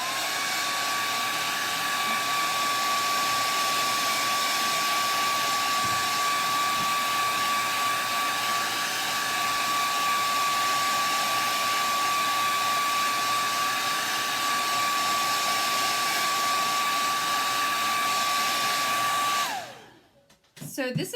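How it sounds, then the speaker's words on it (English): A hair dryer blows with a steady, loud whine and airy roar for about twenty seconds, then cuts off abruptly near the end. "So let me just hit this with a blow dryer."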